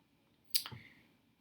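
A single crisp computer mouse click, close and quiet, while working in graphing software, then near silence.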